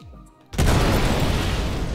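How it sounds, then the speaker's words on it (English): A size 4 missile striking a Sabre ship in a space combat video game, a sudden loud blast after a brief quiet that stays as a dense roaring rumble to the end. "1 size 4 missile on the way."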